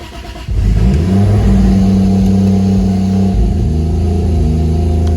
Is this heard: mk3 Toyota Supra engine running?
yes